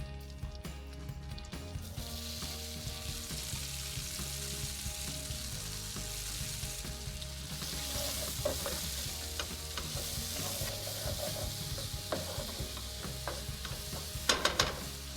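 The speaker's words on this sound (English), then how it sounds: "First, let's add in a good handful of curry leaves. Give these a stir." A handful of curry leaves sizzling in hot oil while being stirred in a pan, a steady bright crackle with occasional scraping and sharper pops near the end.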